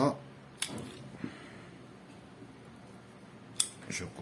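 Scissors snip through hibiscus branches while shaping a pre-bonsai, two sharp cuts about three seconds apart, close and crisp over a quiet room with faint background noise.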